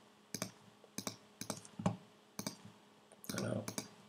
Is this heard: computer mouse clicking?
yes